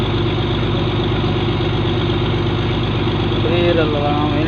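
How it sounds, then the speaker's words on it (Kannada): A fishing boat's engine runs at sea with a steady, loud, unbroken drone and throbbing vibration throughout, and a faint voice surfaces briefly near the end. "ನಾವು ಅಷ್ಟು ದೂರ ಮಾತಾಡಿದ್ರು ಕೂಡ ಇಂಜಿನ್ ಸೌಂಡ್ ಬರುತ್ತೆ"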